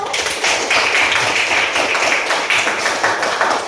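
A classroom group applauds a student team during a school counseling activity on resilience; steady, dense clapping fills the whole stretch at close range with no talk over it.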